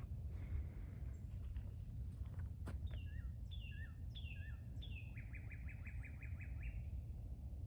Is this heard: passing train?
no